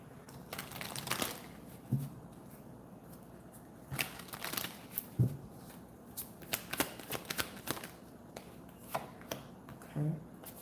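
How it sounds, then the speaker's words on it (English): Tarot cards being shuffled by hand, soft papery riffles and slaps in irregular bursts, fairly quiet and close, with brief gaps between shuffles. "Okay, let me shuffle real quick."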